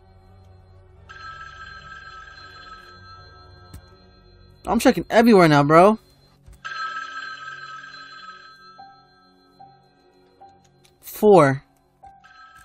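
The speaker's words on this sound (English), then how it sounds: "I'm not answering that phone." Within a fan-made Halloween Michael Myers video game, a telephone gives two separate stretches of steady electronic ringing. A man's short loud remarks break in between and after them.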